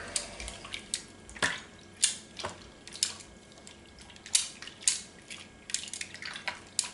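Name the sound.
stirring venison jerky marinade in a bowl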